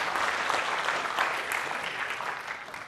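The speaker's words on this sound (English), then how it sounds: "can I please get a round of applause for Jack?" A conference audience breaks into steady, dense applause for a software speaker, a continuous wash of many hands clapping at even loudness for about three seconds with no talk over it.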